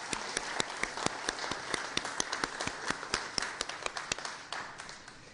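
An audience breaks into a brief round of applause for community partners, a dense patter of hand claps with sharper individual claps standing out, steady for several seconds before tapering off near the end.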